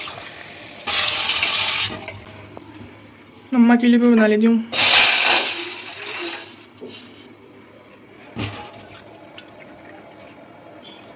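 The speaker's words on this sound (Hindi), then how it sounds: "तो मैं डालती हूँ इसमें पानी, छोटे कप में पीऊँगी," Water splashes into a pot for making tea in a home kitchen, in two loud pouring bursts, with someone speaking briefly between them.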